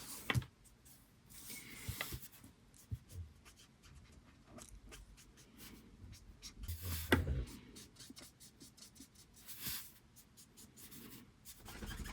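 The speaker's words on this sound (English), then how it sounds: "This paper texture is actually really jarring because it's kind of squeaky." Marker tip squeaking and scratching across textured paper during an illustration session, a faint, close run of uneven strokes with a few sharper squeaks and scrapes, no voices.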